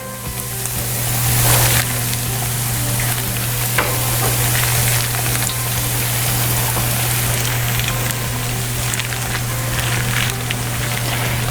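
Funnel cake batter frying in hot oil, a steady dense sizzle with crackling bubbles that holds at a constant level throughout, close and loud, with no voices over it.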